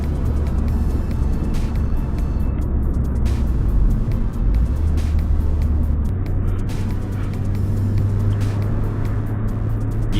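A car drives along a road with a steady engine drone and tyre rumble heard from inside, continuous and fairly loud, with no talking.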